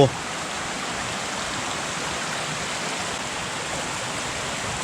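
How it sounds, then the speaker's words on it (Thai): Tat Kham waterfall in Nakhon Phanom, Thailand, pours in a constant, dense rushing roar of flowing water, loud and close, unbroken from start to end. "อันนี้น้ำตกตัดขามนะครับ"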